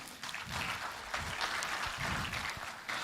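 Applause from an audience at a Bengaluru VFX industry showcase, honouring visual effects artists; steady, dense clapping that holds moderately loud throughout, with no talk over it.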